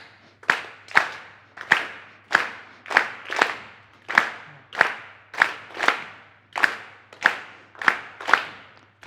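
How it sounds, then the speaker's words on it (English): An audience at a music lecture claps a syncopated rhythm together, with crisp, sharp group claps arriving in an uneven repeating pattern of single and paired hits, each one decaying quickly into a short room echo. "and you clap it with me"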